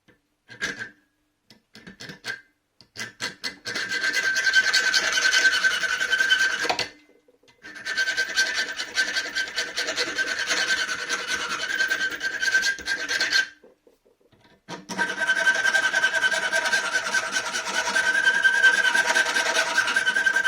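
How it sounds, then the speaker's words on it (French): Wooden coat hook being filed by hand, long steady rasping strokes in three loud sustained bursts separated by short pauses, close up with no talking. "il va falloir limer tout ce qui dépasse pour que ce soit le pas de vis qui soit le plus à l'extérieur"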